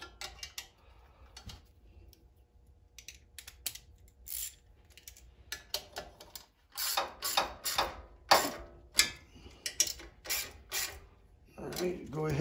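Nuts being tightened on a PowerBoss 5250 generator during a gas-to-propane and natural gas conversion, heard as irregular metallic clicks and ratcheting taps in scattered bursts, close up, with quiet gaps between.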